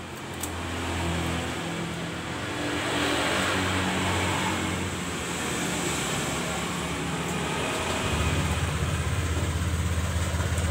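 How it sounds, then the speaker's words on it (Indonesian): Honda Vario 125 scooter, under repair for a total electrical failure and a faulty four-pin relay, starting and then idling with a steady mechanical hum and broadband noise, loudness rising near the end. "Nah begini, ini motor udah mau nyala ya."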